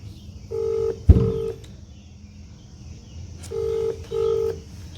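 A phone ringback tone plays while waiting for an answer: two paired double-beat rings, clear and close, separated by a pause, with a single thump near the first ring.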